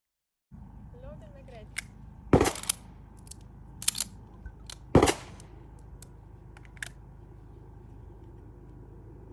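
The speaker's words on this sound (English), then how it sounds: "Let's shoot some live rounds." Live-round gunshots during IPSC practical shooting target transitions: two loud, sharp cracks about two and a half seconds apart, with a fainter shot-like snap between them and lighter clicks later over a steady background hum.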